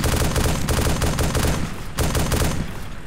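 Video game gunfire in bursts of rapid automatic fire, loud and close, with a brief pause near the middle before the shooting resumes, with no one talking over it.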